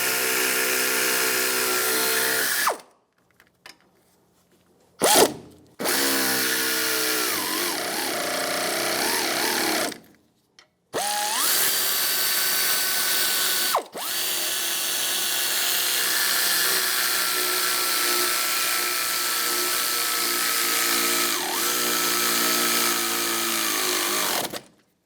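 A power tool with a 13mm socket tightens bolts on the front shock and spring assembly of a 2007-2014 Cadillac Escalade ESV, loud whirring bursts of several seconds separated by short silences.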